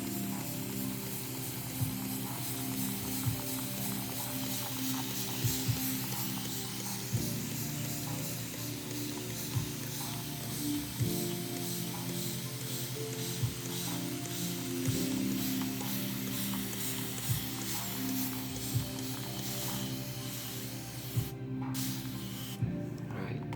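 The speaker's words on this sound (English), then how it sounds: "I have a spray bottle here, and I'm just going to soak these seeds in real good." Plastic spray bottle misting water onto seeds to soak them: repeated short squirts recurring every second or two over a steady hiss, close and moderately quiet.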